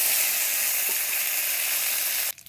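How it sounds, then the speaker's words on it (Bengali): Ground ginger-cumin paste frying in hot oil with cumin, dried chilli and bay leaf: a loud, steady close sizzle that cuts out abruptly near the end, no voices. "মশলাটা আমার ভাজা ভাজা হয়ে গেছে।"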